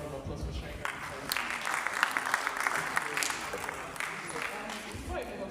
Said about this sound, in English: please give me a round of applause for sharing that with us